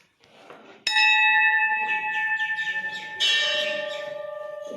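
A metal temple bell rings out loudly with a bright, sustained tone, struck twice, each strike leaving a long shimmering decay.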